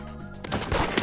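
A quick burst of gunshots in a Roblox game, loud and close, packed into about a second.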